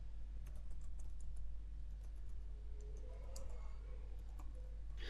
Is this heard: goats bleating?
no